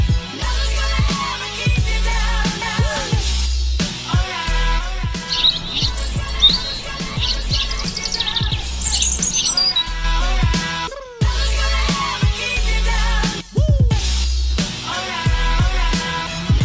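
Three birds give repeated chirps, tweets and squawks, close and fairly loud, layered over continuous outdoor background noise for the whole stretch.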